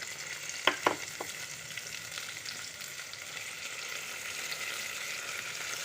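Vegetables sautéing in a pan for sambar, a steady broadband sizzle of frying with a few sharp clicks of a spoon against the pan early on, no voices.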